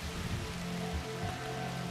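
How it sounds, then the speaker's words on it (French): Rain falls in The Universim god game, a soft continuous hiss of rainfall that stays even and unbroken throughout, with a faint low hum beneath. "Ok, il pleut là-bas."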